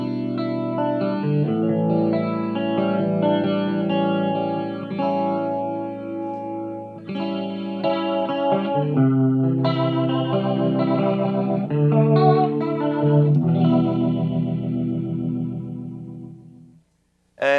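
Guitar played through an Eventide ModFactor rotary modulation effect, a run of chords and notes with swirling, warbling tone, loud and close with no talk, ending abruptly after a brief pause.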